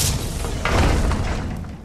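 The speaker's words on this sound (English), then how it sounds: "Everyone clear? Explosion imminent." Explosives blast a barrier during a raid in a video game, a loud booming burst with a rumbling, crackling tail that fades out over about two seconds.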